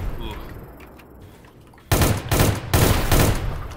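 Beam rifle gunfire in the first-person shooter Sector's Edge, with distant muffled game sounds giving way to loud, dense bursts of rapid shots that continue to the end.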